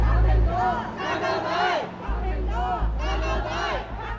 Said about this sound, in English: crowds starting to gather outside a police station in Mongkok